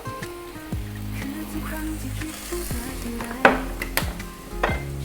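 A stir-fry of three kinds of chili sizzles in a pan over high heat, a steady hiss broken by repeated scraping strokes and clanks of a utensil against the metal, with sharper clatters near the end.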